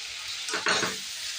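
Pabda fish curry masala sizzles in a pan while a utensil stirs it, giving a brief close scrape over a steady hiss.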